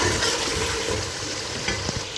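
Karahi meat being stirred after white pepper is added, a dense continuous sizzle with rhythmic spoon scraping close by and no talking.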